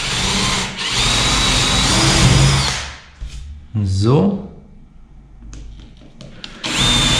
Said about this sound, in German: 7 mm Holzbohrer. Einfach bohren, aber nicht durchbohren